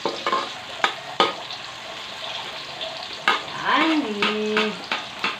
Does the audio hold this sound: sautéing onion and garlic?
yes